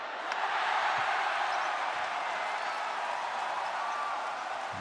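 Indoor basketball arena crowd at a FIBA World Cup Asian qualifier, Korea versus New Zealand, giving a steady, broad roar of reaction after a free throw, continuous and fairly loud throughout.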